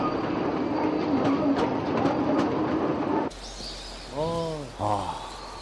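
A tourist mountain train in Tateyama, Japan's Northern Alps, rumbles and clatters along its rails for a few seconds, close and steady, then cuts to a quieter scene with voices talking.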